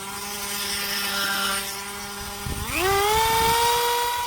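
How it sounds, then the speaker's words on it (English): A rotary tool with an Extreme Dovetail burr carves the eyes and mouth of a wood spirit face into a wooden block, giving a loud, steady, close high-pitched whine that climbs in pitch as the tool speeds up partway through. "Next up is my Extreme Dovetail burr. So let's cut in the eyes and mouth first."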